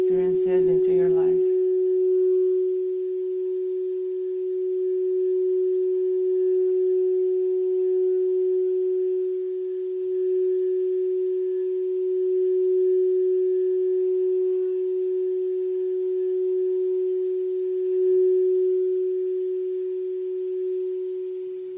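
Sustained crystal singing bowl tone from a sound healing meditation, a steady ringing hum holding for about twenty seconds with a brief voice at the very start.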